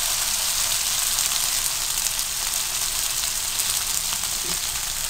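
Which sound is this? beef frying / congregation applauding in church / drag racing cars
beef frying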